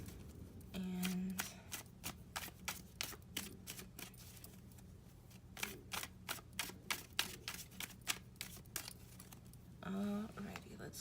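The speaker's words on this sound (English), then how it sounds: "go on and shuffle these cards for you" Tarot cards are shuffled in a quick run of crisp riffling snaps and taps, close and fairly quiet, with brief pauses between bursts.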